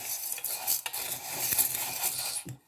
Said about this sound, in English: So I'm just stirring. Sorry if I'm annoying anybody, but I'm just stirring the oils around.